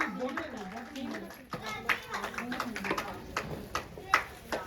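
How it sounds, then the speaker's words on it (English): Children at a school Children's Day celebration clap for prize winners, scattered uneven claps and bursts rising and falling while an adult voice and children's chatter carry on over them. "Children, give a big round of applause"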